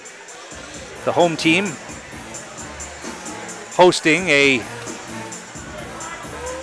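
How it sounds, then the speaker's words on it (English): Low crowd murmur fills an arena at a high school hockey sectional final, Tomahawk visiting Mosinee, a steady background hubbub beneath a close commentator voice talking throughout. "Huge crowd, as you might expect here"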